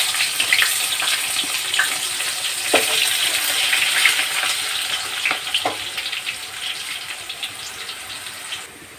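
Two medium chopped onions frying in hot oil with bay leaf, a bright continuous crackling sizzle with scattered pops and stirring scrapes, close and fairly loud, tapering toward the end without speech.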